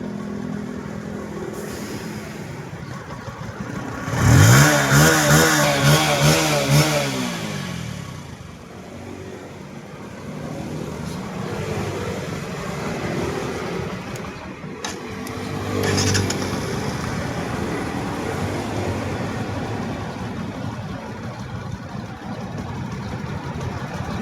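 Bajaj Pulsar NS125 fuel-injected motorcycle engine idling close by, with a sharp rev rising and falling early on, then a steady idle with a smaller second rev; no voices heard over the engine.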